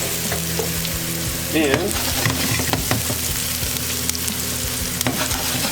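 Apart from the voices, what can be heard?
shallot sizzling in a pan with salt and pepper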